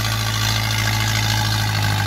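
Mahindra Yuvo 585 tractor in 4x2 mode pulling an 18-disc harrow across a field, its engine producing a steady, loud, continuous low drone with constant rumble throughout, no talking over it.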